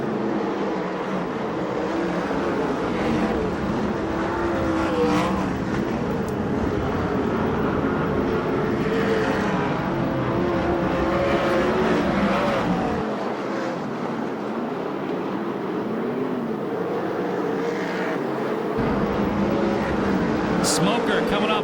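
USAC/CRA sprint cars race at Perris, California, in the Salute to Indy event, a steady loud engine roar running through the clip with a commentator talking over it.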